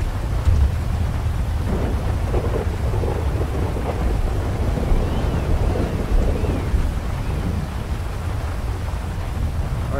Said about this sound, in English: This rain is very loud.